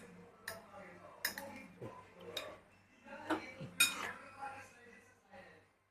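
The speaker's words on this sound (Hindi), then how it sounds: "ये देखिए अब इसको हम करते हैं मिक्स" A spoon clinks and scrapes around a bowl while corn chaat is mixed, giving soft irregular taps and chinks at close range under quiet speech.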